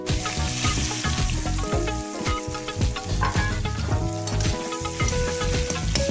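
Chopped onion dropped into hot oil with cumin and cardamom, sizzling and frying loudly and continuously in a pan, with occasional stirring clatter and no talk.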